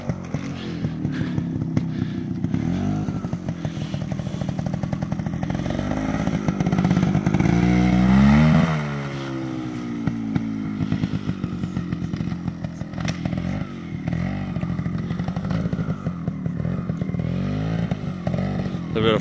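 GasGas trials motorcycles ride over obstacles at a dirt ranch, their engines buzzing and revving in bursts with a sustained climb in pitch midway, close and loud, with people talking at times.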